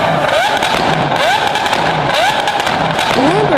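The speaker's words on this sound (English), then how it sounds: "Lamborghini Aventador." A Lamborghini Aventador engine revs loudly and close, with repeated rising pitch sweeps as it climbs through gears, and sharp pops and crackles between pulls.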